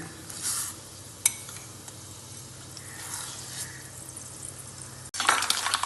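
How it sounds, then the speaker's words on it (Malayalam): Steady crackling and sizzling of mustard seeds and fenugreek spluttering in hot oil in a pan, with a sharp clink near the start and a louder burst of spattering at the end. "കടുകെല്ലാം പൊട്ടി വന്നിട്ടുണ്ട്"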